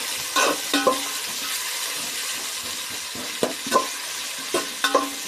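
Steady sizzling of about 300 grams of finely chopped onions frying in a pan, with occasional scraping stirs of a spoon at intervals, no voices.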